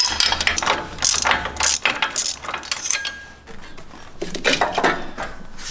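Ratchet with a 10mm socket working a bolt on a Jeep JL Wrangler axle, fast metallic clicking in close, repeated bursts with light clinks of tools between strokes.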